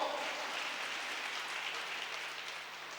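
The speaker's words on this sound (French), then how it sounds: "On va les remercier sous vos acclamations." Applause from the congregation at a church Sunday school children's day celebration, soft steady clapping with a faint cheer, heard from a distance.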